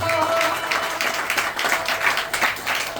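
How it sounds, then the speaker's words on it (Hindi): Applause from an audience at a Sundar Kand religious discourse, a steady wash of many hands clapping that continues for a few seconds without anyone speaking. "ऐसे पिताओं के लिए एक बार जोरदार ताली बजा दीजिए।"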